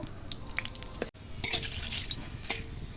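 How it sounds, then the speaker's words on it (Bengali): Radhuni, bay leaf and dried red chili sizzle in a little hot oil in a kadai, with a steady fry under repeated scraping and stirring clinks, close by. "ফোড়নটা একটু ভেজে নেব"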